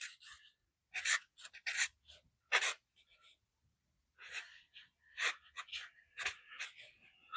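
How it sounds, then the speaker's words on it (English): A pen or pencil sketches a trim-piece design for a 1941 Ford Supercab on paper, close and quiet, with bursts of scratchy strokes separated by short pauses. "let's see if I can draw this"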